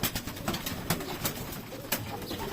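Pigeons cooing inside a loft housing adults and young birds, soft low coos repeating a few times over a short stretch with faint rustling and clicks nearby, no talking.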